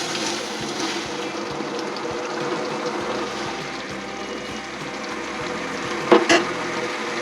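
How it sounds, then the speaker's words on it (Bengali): Papaya pieces simmer in bubbling sugar syrup, a steady soft sizzle and stir with a faint low hum beneath and a short clatter near the end. "এখন আমরা এটা দিয়ে দেবো পেঁপেটা।"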